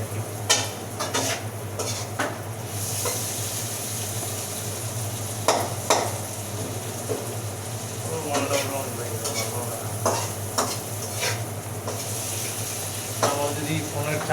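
Turmeric and spices frying in a pan for a bachelor-style egg and potato curry: a continuous soft sizzle with repeated scrapes and clinks of a spoon stirring against the pan, and a voice talking intermittently over it.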